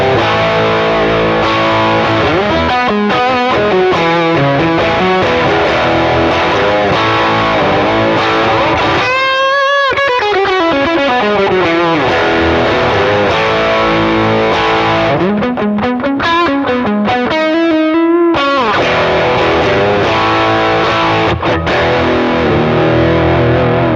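Vintage Silvertone guitar amp profiled in a Kemper, a loud, distorted electric guitar playing continuous chords and single-note runs, close and unbroken throughout.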